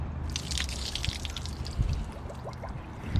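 Liquid pours and drips during a Subaru BRZ engine teardown after a critical track failure, a thin trickling spatter with a few dull glugs and drips near the end, with no talking.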